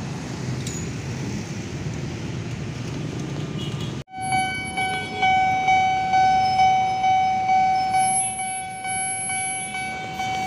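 A train passes at Manggarai station: a broad rumble first, then after a sharp cut a rhythmic series of clacking wheel beats under a steady high tonal whine, fairly close and moderately loud, with no talking.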